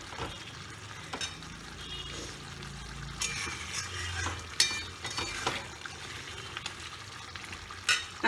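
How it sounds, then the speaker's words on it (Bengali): Chicken sautéed in a pan for biryani, with a spatula scraping and clinking in repeated stirs over a steady low sizzle of frying, close and fairly quiet. "এই কষতে কষতেই চিকেনটা হয়ে যাবে"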